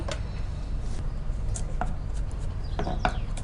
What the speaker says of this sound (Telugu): గ్రీన్ చిల్లీ, జింజర్, గార్లిక్ డైరెక్ట్గా వేయకుండా కొద్దిగా నైస్ చాప్ చేసుకొని వేసుకుందాం